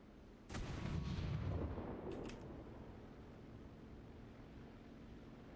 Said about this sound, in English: These are high explosive with base fuse shells, by the way